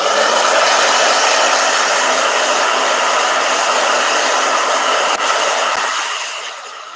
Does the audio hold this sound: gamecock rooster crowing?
no